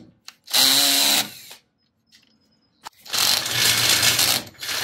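A power drill bores a pilot hole for boat trailer safety chains in two loud close whirring bursts, separated by a quiet gap with a faint tone and a few brief clicks.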